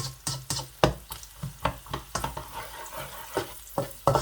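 Onions sizzle in oil in a kadahi while a spoon scrapes and stirs them in uneven strokes, close and clear with intermittent clanks against the pan.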